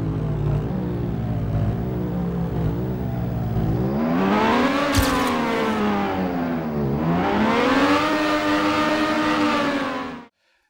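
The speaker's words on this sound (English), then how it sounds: "here's a prime example of one of these bad car engine sounds" Synthetic, game-style simulated car engine sound with an unrealistic tonal drone: a steady idle-like hum, then two rising and falling rev sweeps, loud and close, ending abruptly.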